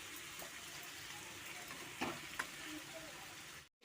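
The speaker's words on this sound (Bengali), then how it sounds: "আমি আর কিছুক্ষণের জন্য কষবো, তারপর আমি পরিমাণ মতন জল দেবো।" Chicken and tomato sizzle steadily in a pan as they are sautéed, with a soft, continuous frying hiss and a couple of brief scraping stirs near the middle.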